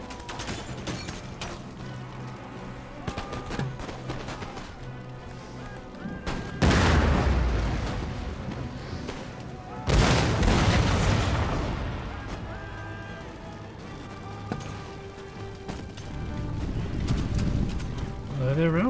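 Round-shot cannon fire from artillery in the video game Empire: Total War: two heavy booms, a few seconds apart, over continuous battle noise with horse hoofbeats.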